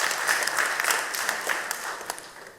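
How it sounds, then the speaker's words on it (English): An audience at a church sermon claps together in a dense, steady round of applause that fades toward the end of a few seconds. "Give him a round of applause."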